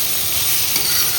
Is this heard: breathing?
no